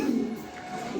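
A male pigeon of Chinese breed gives a short, low, throaty coo near a female, close and fairly soft in a quiet setting.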